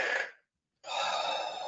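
One person takes a slow, deep breath during guided forgiveness therapy: a close airy inhale that fades into a short silence, followed by a long steady exhale, with no speech.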